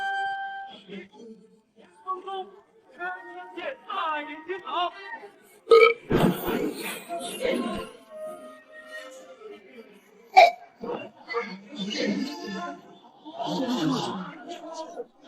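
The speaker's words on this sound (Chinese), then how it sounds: "既然你们想听嗝" Loud, exaggerated burps from a burping contest in an animated drama, several bursts between stretches of voices, the biggest about midway and another sharp one later, with talk around them.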